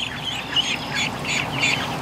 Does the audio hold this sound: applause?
no